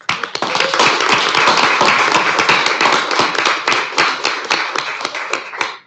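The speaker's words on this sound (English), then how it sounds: "So I think they deserve an applause as well" A council meeting audience gives students a round of applause: dense, sustained, close hand clapping that holds for several seconds before stopping abruptly, with no voices.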